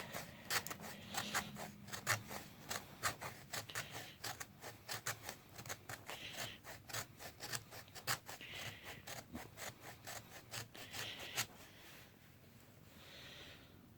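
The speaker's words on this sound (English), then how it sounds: "take the spine of your knife, put your thumb right there, have a reverse grip, put your thumb there, and scrape it" The spine of a knife scraping fatwood into fine shavings for a feather stick, a quick series of rhythmic, raspy close strokes that stops near the end, with no talking.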